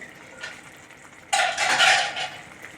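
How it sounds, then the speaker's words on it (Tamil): A metal lid set onto a cooking pot of tomato curry on the stove gives one loud, close clattering clang midway, after a quieter stretch of faint scraping. "இதை வந்து மூடி போட்டு கொஞ்சம் வேக வச்சிடலாம்"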